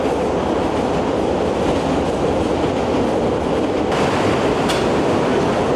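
Chicago L Brown Line train in motion, a loud continuous rumble of wheels and car noise with steady rail clatter and a brief high squeal near the end.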